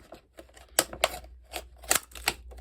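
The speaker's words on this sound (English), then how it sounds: "then I can use my scissors to straighten everything up" Scissors snipping through craft material while trimming a Christmas bauble suncatcher, a series of sharp, close crisp clicks and cuts in an irregular rhythm with quiet gaps between.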